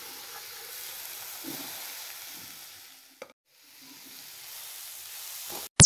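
Boiled whole wheat and grated coconut sauté in a hot pan with a soft, close sizzle and light stirring scrapes, dipping to near silence for a moment before resuming.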